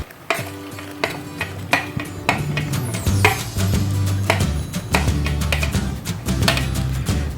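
Long beans go into a pot of Sundanese sayur asem and are stirred, with repeated clanking utensil strikes against the pot over a bubbling, sizzling background, fairly close and loud, with no voices.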